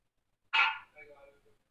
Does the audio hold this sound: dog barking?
yes